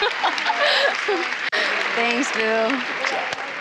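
Applause for a UCLA gymnast, a busy round of clapping heard under close voices that speak and laugh.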